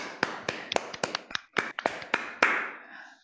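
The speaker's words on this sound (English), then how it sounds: "I'll clap for everyone." A single person claps for a speaker at the close of a talk, about a dozen sharp, close hand claps in an uneven rhythm, loud and alone with no voices over them.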